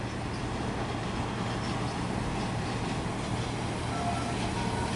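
Siemens train set arriving on the far side of a Cranbourne line station in Melbourne, heard as a steady, distant low rumble of rolling wheels and motors that holds evenly throughout.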